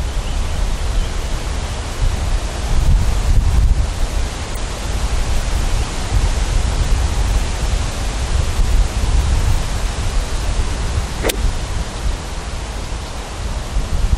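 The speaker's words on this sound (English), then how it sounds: "that wind is so strong" Strong hurricane wind roars continuously outdoors, a dense, steady rush of buffeting noise striking the microphone, swelling slightly in places but never letting up over the whole stretch.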